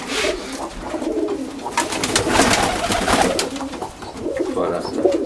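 Iranian pigeons give low, soft cooing calls that carry on without a break. Other bird sounds and a bit of ambient noise are mixed in, with no speech heard.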